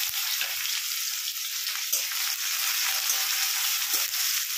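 Chopped ginger, garlic and chili fry in hot oil with cumin in a large kadai over high heat, a steady loud hiss with a few soft knocks of stirring.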